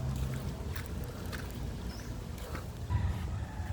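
A 10 kVA emergency generator set on a test run, giving a steady low rumble that stays fairly loud throughout with a slight swell near the end.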